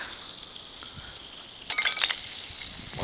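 Ice chunks skittering and clinking across the frozen surface of Castle Lake near Mt Shasta, a bright burst of tinkling, glassy ringing that starts suddenly and fades over a couple of seconds, no talk.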